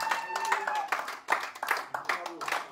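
A church congregation claps to acclaim the Lord, uneven bursts of hand claps close by, mixed with a preacher's voice speaking and ringing tones.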